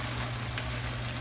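Food frying in a pot with salt, giving a steady close sizzle and hiss throughout, fairly quiet and with no talk.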